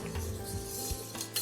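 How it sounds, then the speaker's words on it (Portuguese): Thick pastry cream being stirred in a pot, a soft, steady scraping and sloshing that runs close and fairly quiet for the whole moment with no talk over it. "Então precisa mexer bem esse creme em todos os cantos"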